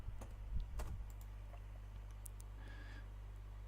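A computer keyboard being typed on in a short burst of quick, close clicks that then stops, leaving a quiet background hum.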